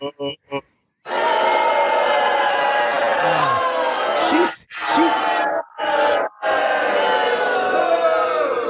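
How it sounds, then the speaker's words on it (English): A live studio audience boos loudly in a steady, sustained, crowd-wide groan, broken by a few brief dropouts, with no voices speaking over it. "the live studio audience is booing you right now"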